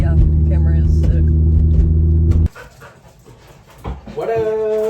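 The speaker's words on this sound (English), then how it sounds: "Got the dogs going crazy." Dogs at home get worked up, panting and whimpering excitedly close to the mic, with a loud droning rumble at the start that cuts off abruptly and people talking over them.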